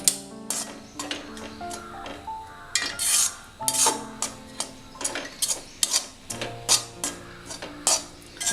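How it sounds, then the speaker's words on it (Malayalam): A metal ladle scrapes and clinks against a pan as semolina upma is stirred with its back, giving irregular taps and scrapes at close range with no talking. "ഇനി ഇതൊക്കെ ഇളക്കുമ്പോൾ എപ്പോഴും തവിയുടെ ബാക്ക് വശം വെച്ച് വേണം ഇളക്കാനായിട്ട്"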